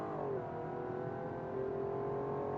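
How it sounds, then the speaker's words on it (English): A car engine in a game over-revving by itself, holding a high, steady whining drone with a brief dip in pitch and no talk. "The engine actually over revved itself."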